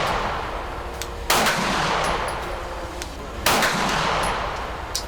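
A Springfield Armory XD-M Elite Tactical OSP pistol fires two sharp gunshots a couple of seconds apart on an outdoor range, each with a ringing tail, over steady background noise.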